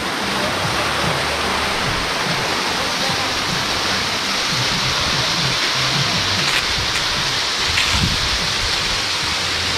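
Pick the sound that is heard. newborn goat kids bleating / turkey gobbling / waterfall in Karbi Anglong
waterfall in Karbi Anglong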